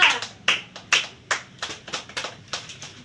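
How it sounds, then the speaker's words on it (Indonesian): A small classroom group claps for a student, with scattered, uneven, crisp hand claps close by that stay sparse and quickly fade rather than building into full applause. "Beri aplaus dulu kepada Finza"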